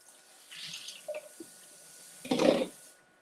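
A kitchen tap runs briefly to rinse a spatula, with a short splashing gush of water near the end after a few faint clatters, close and moderately loud.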